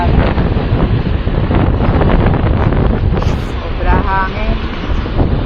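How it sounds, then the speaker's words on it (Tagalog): Strong wind buffeting the microphone outdoors in Causeway Bay, Hong Kong, a loud continuous rumbling roar with gusty swells and a few brief faint background sounds. "Hangin."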